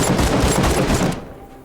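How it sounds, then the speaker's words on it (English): Many enemies fire guns at the player in a shooter video game, a loud, dense fusillade of overlapping rapid shots that rattles continuously before cutting off abruptly near the end. "And they're all shooting at me."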